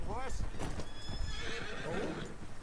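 A horse whinnies and neighs with clip-clopping hooves in the Western video game Red Dead Redemption 2, close and loud, while someone speaks over it.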